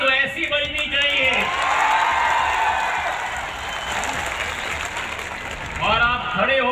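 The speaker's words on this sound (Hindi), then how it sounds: "तालियों की गड़गड़ाहट" A large audience applauding at a college event, a dense wash of clapping that swells and holds for several seconds, with a speaker's amplified voice heard at the start and end.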